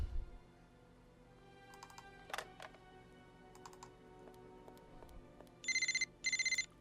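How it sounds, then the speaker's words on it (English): A phone rings in the video game Chronicles of Mystery, two bursts of an electronic trill near the end, preceded by soft clicks and faint game ambience. "Oh, I have a phone."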